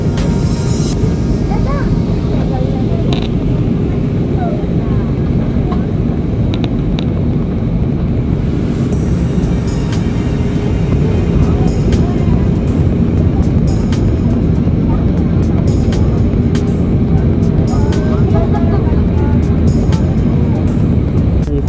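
Steady, loud rumble of an airliner cabin as the plane descends toward landing in Lima, a constant low engine and airflow roar filling the whole stretch with no breaks.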